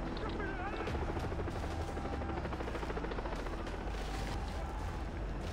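Enemy helicopter in the video game Far Cry 3, its rotor roar thick and steady throughout, with bursts of gunfire mixed into the dense game noise.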